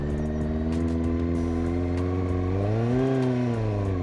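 A Kawasaki ZX9R sports bike's engine hums steadily at low speed through a figure of 8 manoeuvre, its pitch dipping and rising with throttle around the turn, loud and close with wind buffeting.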